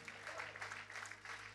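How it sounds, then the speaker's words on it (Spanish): A church congregation claps together in a brief, dense burst of applause, heard from a distance in a reverberant room. "Dele un aplauso al Señor."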